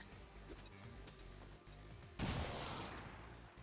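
Grenade blasts in the turn-based strategy game XCOM 2 Long War, a dense rumbling crash bursting in at mid-clip over a steady bed of game sound and music, then slowly decaying.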